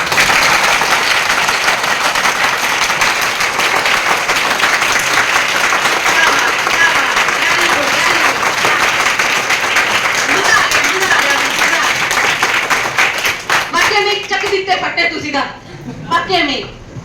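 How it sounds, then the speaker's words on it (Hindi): Enthusiastic audience applause at a motivational business seminar, loud continuous clapping that fills the room for many seconds before thinning into scattered claps and murmuring voices. "अपने लिए जोरदार तालियां।"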